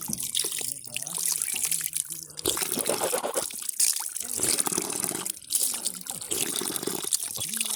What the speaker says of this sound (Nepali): यहाँ चाहिँ पानी छ, पानी पनि यहाँनिर पुरै यो पानी जरो पानी हो।